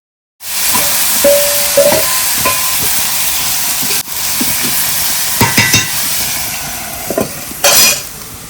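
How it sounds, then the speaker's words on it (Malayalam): Snake gourd thoran sizzles steadily in a pan while being stirred, with a continuous frying hiss broken by occasional scraping clinks, close and fairly loud with no talk. "ഇനി അങ്ങോട്ട് നല്ലോണം ഇളക്കിയാൽ നമ്മുടെ ഉപ്പേരി റെഡിയായി"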